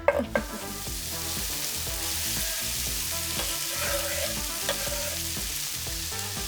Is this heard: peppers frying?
yes